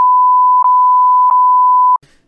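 A steady high-pitched censor beep runs continuously for about two seconds, briefly dipping a few times, then cuts off into near silence.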